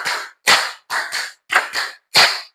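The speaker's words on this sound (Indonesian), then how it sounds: "tepuk 5 3 kali" Students performing a classroom clap pattern: five sharp, close claps in quick rhythmic groups, ringing out loudly with brief silent gaps between them.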